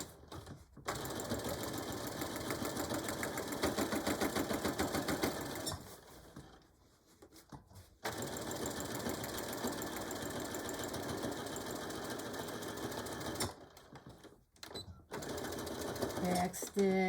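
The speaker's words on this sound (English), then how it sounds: "Just to give a nice decorative top stitch." A sewing machine top stitching a beach or diaper bag runs in steady, close mechanical bursts of several seconds each, stopping and restarting, with a voice talking alongside.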